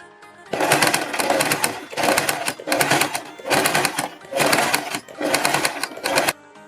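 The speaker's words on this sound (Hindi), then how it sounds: "पट्टियों के किनारे पर जहाँ पर हमारी सिलाई है एक एक सिलाई लगा देंगे" A sewing machine stitches along the edges of fabric strips for a star-shaped gala design, running in six loud, close bursts with brief pauses between, no voices.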